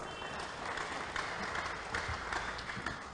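Audience applause for debating students at an academic English debate, a steady mass of clapping at moderate level throughout, with slight swells and no clear voices over it.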